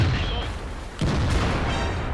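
An STB-1 tank's cannon fires in a tank video game, one sudden low boom about halfway through. Steady game background noise runs underneath.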